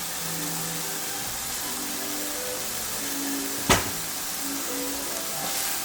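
Garlic and spring roll filling sizzle steadily in a hot pan, a soft continuous frying hiss with a sharp clank of a utensil partway through.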